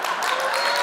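Audience clapping at a lightning talk, a dense, loud, even wash of many hands applauding together without a break.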